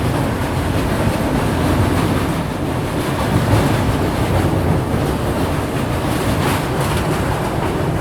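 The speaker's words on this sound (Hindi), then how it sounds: "तो अभी अपनी ट्रेन क्रॉस कर रही है सतलज रिवर" The Amritsar Jaynagar Humsafar train crossing a bridge over the Sutlej river, heard from inside as a loud, steady rumble and roar of wheels and carriages that continues throughout, with no talk.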